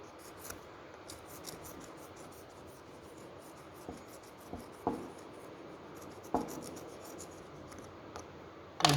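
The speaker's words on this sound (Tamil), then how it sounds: "இங்கே ஃபேஸில் சர்ஃபேஸில் சாக் பீஸ் அப்ளை பண்ணிவிட்டு மார்க் பண்ணிக்கணும்" Chalk scratching across the face of a metal workpiece to mark it for eccentric turning, quiet intermittent rubbing strokes with a few sharper taps, close by and without talk.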